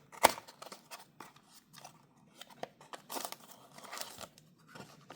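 Cardboard packaging of a Tomica Premium Morris Mini toy car being opened, with close, irregular tearing, crinkling and snipping sounds in short bursts and a sharp snap near the start.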